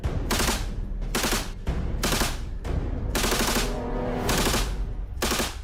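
Repeated automatic gunfire from military firearms during a live-fire drill: several loud, close bursts come in a steady stop-start rhythm with short gaps between them.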